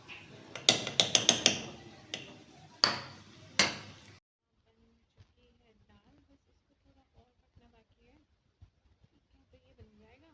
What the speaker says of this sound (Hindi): अब मैं इस पर तवा ढक दूँगी हल्का सा।